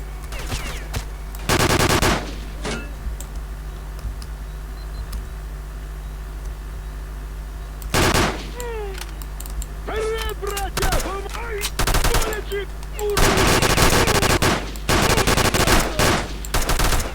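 Bursts of rapid gunfire crackle repeatedly over a steady electronic hum in S.T.A.L.K.E.R. during a night assault on Pripyat, with louder volleys near the start, middle and end, and warbling tones in between.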